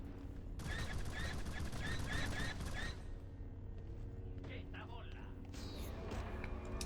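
Rockets being fired by enemy troops on Raxus Prime in Star Wars: The Force Unleashed, a rapid series of repeated whooshing launches in the first few seconds, fairly faint, then quieter battle noise under someone talking.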